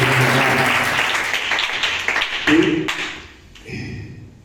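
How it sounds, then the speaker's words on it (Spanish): An audience claps for a student's turn at a fifth-year secondary school debate in a school hall. The applause is loud and close, thins near the end, and a voice is heard under it. "Aplauso, por favor, para la intervención del estudiante"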